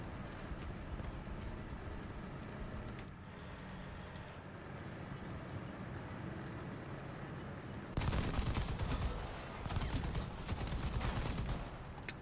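Machine gun fire in War Thunder, aimed at small sheds: a steady, dense rattle of rapid shots runs throughout, then turns louder and harsher for the last few seconds, with no talking.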